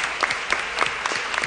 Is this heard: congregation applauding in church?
yes